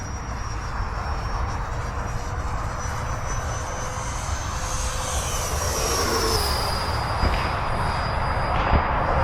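A Freewing Mirage 2000C 80mm EDF radio-controlled jet flies overhead with a steady ducted-fan whine and roar that shifts in pitch as it passes, loud and continuous, no voices.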